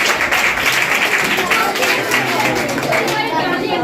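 Loud audience applause at a GK quiz competition prize ceremony, dense steady clapping from a crowd with chatter mixed in throughout.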